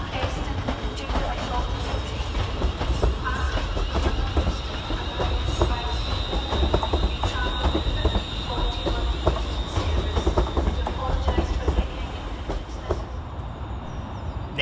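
ScotRail class 380 electric unit 380003 terminating in a platform at Glasgow Central station, with rolling wheel clatter, a sustained high squeal and bursts of station noise, and indistinct voices in the background.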